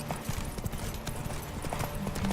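A horse gallops in The Witcher 3 video game, its quick rhythmic hoofbeats drumming continuously and close by.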